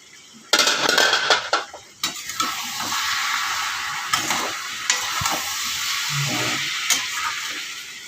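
Vegetables for a fish-head curry stirred in a sizzling pan, opening with sharp metallic scrapes and clinks of the utensil before settling into a steady close hiss of frying with occasional stirring knocks. No voices are heard.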